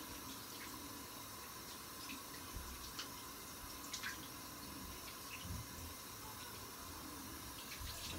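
A tap runs steadily into a sink for rinsing after a shave with a CV Heljestrand no. 24 razor, a soft continuous hiss of flowing water with faint splashes, low in level and with no one talking.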